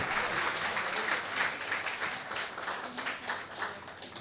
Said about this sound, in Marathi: एकदा जोरदार टाळ्या आमच्या तीनही वादकांसाठी वाजवूयात